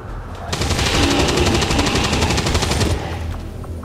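Rapid automatic gunfire in a video game, a loud continuous burst of closely spaced shots lasting a couple of seconds, then cutting off.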